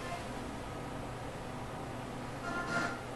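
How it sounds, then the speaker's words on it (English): Ghost box radio scanning noise run through reverb: a steady, faint hiss of static with a brief swell of brighter sweep near the end, no voices. "there's just a little bit of scanning noise in there"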